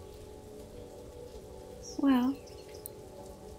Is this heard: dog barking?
no